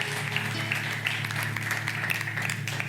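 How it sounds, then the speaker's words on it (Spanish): A church congregation applauds during a service: a dense, continuous wash of clapping over a steady low musical hum, lasting the whole moment. "dale fuerte el aplauso al Señor"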